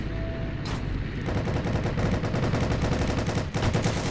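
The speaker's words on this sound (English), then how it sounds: "We are getting shot at." Sustained automatic gunfire from the Heroes & Generals multiplayer shooter, rapid bursts rattling almost continuously for about four seconds, loud and close, with a short gap near the middle of the stretch.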